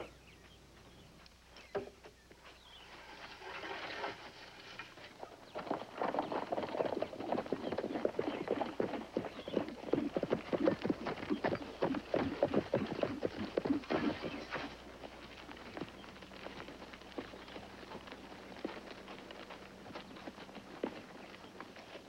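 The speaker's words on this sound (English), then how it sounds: "Horses for soldiers at the fort." Several horses being brought to a fort for soldiers clip-clop on hard ground, hoofbeats rising from quiet to a busy, steady patter that peaks midway and then fades, with no voices.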